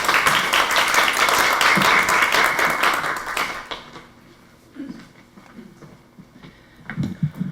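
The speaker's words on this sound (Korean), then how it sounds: "여러분 박수로 맞이해 보겠습니다." Audience at a forum seminar applauding to welcome a speaker, a dense burst of clapping that fades out midway, followed by scattered footsteps and small knocks in a quieter room.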